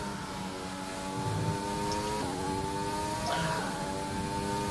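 An F1 race car engine screams at high revs in the F1 2020 racing game, a steady whine that briefly dips at two gear changes before climbing again, with no voices.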